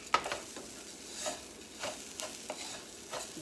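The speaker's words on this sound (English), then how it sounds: "And continue to toast all the flavors into the rice." Rice being stirred in a pan as a seasoning packet toasts into it, quiet scraping strokes of the spoon against the pan, repeated every half second or so, over a faint steady sizzle, with no talking.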